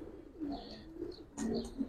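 A few soft coos from Giribaz pigeons in a loft, a young female among them, come in short rolling bursts, faint and close, with a brief higher chirp near the end.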